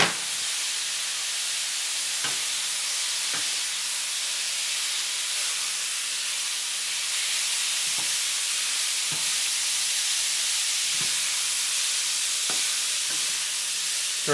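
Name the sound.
steak sizzling in a pan for Philly cheesesteak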